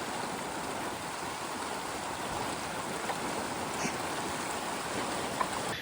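Rapids on a mountain river in Colorado rushing steadily, a dense continuous wash of water at moderate level with no voices.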